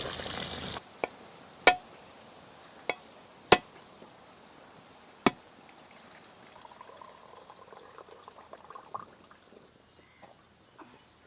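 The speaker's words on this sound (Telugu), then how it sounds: "కొబ్బరికాయ కొట్టి తురుము తీయ్యా" Several sharp, hard knocks spaced apart, like a coconut being struck, followed by quieter scraping and trickling sounds.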